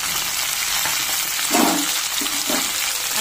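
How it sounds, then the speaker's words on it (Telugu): Drumsticks, radish and carrot fry for sambar, giving a steady close hiss with a couple of brief stirring scrapes midway, and no talking. "అన్నీ వేసి బాగా దోరగా వేయించాలి"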